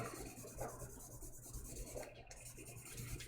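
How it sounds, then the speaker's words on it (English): Wet sanding by hand with 1500 grit sandpaper gives a soft, steady rubbing rasp in repeated back-and-forth strokes. It is very faint and close, and no one speaks. "Now 1500 grit."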